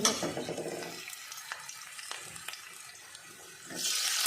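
Asafoetida and ginger fry in hot oil, a brief loud sizzle at the start that fades into quieter crackling with a few sharp pops and utensil clicks, then a burst of hiss near the end.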